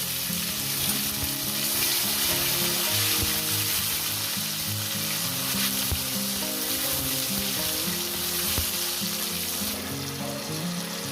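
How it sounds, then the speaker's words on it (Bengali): Tomato frying in hot oil after a black cumin tempering, with a steady close sizzle running throughout and occasional stirring scrapes. "টমেটোটা মিনিমাম এক থেকে দেড় মিনিট এটাকে ভেজে নেবো"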